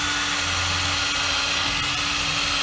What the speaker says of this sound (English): drill our hole